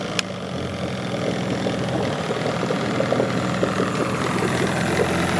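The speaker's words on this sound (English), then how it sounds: "It's idling." A rebuilt boat engine fitted with an electric choke and starter idles steadily, a low, even mechanical rumble with a faint rhythmic pulse, alone and fairly close.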